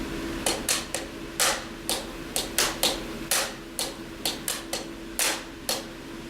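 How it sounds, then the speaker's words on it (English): A drum pattern of soft ghost notes placed after each downbeat alternating with louder accented hits, dry crisp strikes in a steady repeating rhythm over a faint background hum, with no voices. "play a ghost note after every downbeat and then play your accented"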